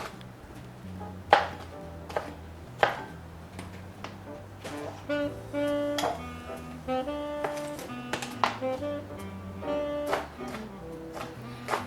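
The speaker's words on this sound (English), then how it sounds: "Now I'll chop my pepper into fairly small pieces." A knife chops a pepper into small pieces on a board, several sharp taps at irregular intervals under steady background music.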